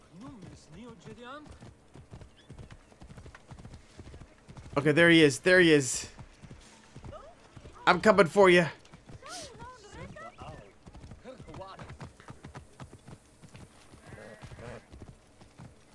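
A stolen horse in Assassin's Creed Origins clip-clops in two loud bursts of hooves amid game effects, with someone talking over most of the stretch.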